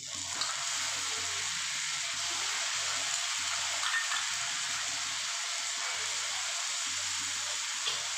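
Tomatoes go into a hot frying pan for egg bhurji and sizzle steadily and loudly, a continuous hiss of frying with faint stirring and no voices.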